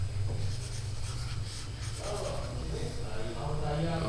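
A marker or chalk scrapes and taps across a board during a lecture in a room with a steady hum, the writing strokes fairly faint and continuous.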